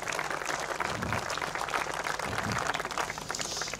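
Audience at a prize ceremony for a European float fishing championship applauding the organizing team, a dense, steady wash of clapping from many hands throughout, moderately loud.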